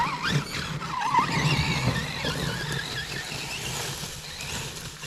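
A Kyosho FO-XX radio-controlled car accelerating hard during a bash at Sacré-Coeur, its close, whining electric motor mixed with sharp tire squeals and scrabbling bursts.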